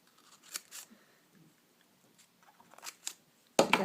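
Scissors snip small pieces of paper in quiet, separate cuts while a map Christmas ornament is being made, closing with one louder, sharper cut.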